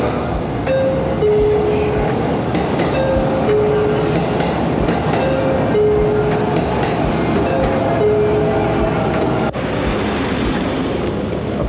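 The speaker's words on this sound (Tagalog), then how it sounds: "Ito na yung train." A train arriving at a station in Japan makes a loud continuous rumble with rhythmic rattling, overlaid with repeated short two-note chime or announcement tones and people talking.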